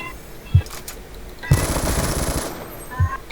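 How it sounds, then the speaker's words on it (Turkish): Machine gun fire in the video game Black Ops 2 sounds as a loud sustained burst of about a second, with a few single heavy thumps before and after, under faint background game noise. "adam taramalı silah mı kullanıyor?"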